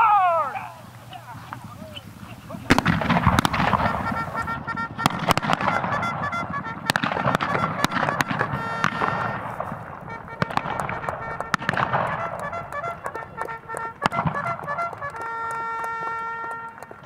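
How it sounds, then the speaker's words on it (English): During a military retirement ceremony, B Troop of the 4th U.S. Cavalry Memorial makes a mounted pistol charge across a parade field: a rapid series of sharp gunshot cracks over galloping hoofbeats, fairly close, with voices in the background. "wrapped up the ceremony with a pistol charge across the parade field."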